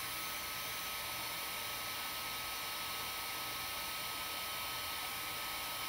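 Hair dryer blowing on wet paint at a craft table, a steady unbroken whoosh of airflow and motor hum that holds at one level for the full six seconds.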